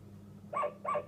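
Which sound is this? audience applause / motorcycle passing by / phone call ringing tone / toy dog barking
toy dog barking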